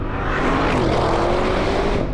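An Audi RS6 GT performance wagon's engine drones loudly and steadily while the car is being driven, a continuous dense roar with road and wind noise and no talking.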